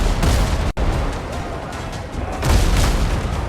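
Ship's forward guns firing in WindRose, a naval battle game: loud booming cannon blasts over a constant roar of battle noise, with a sharp break and a second heavy burst of fire.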